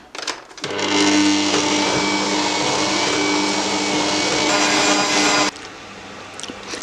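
An electric mixer whirs loudly and steadily while stirring a chocolate mass with milk and rum, starting abruptly, holding an even motor drone for several seconds, then stopping and dropping to a lower hum.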